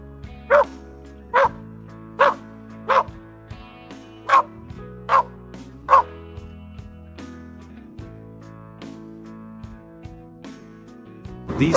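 Hunting dogs bark during a wild boar hunt, about eight loud, sharp barks spaced roughly evenly over the first six seconds, followed by quieter restless dog sounds and a final bark at the end.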